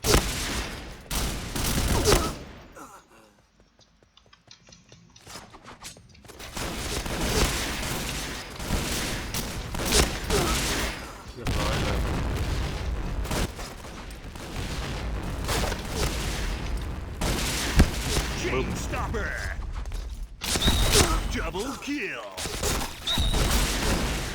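SPAS-15 shotgun fire in the online shooter Point Blank comes as repeated booming blasts through a busy match, with scattered rapid gunfire between them. Someone talks over most of the shooting.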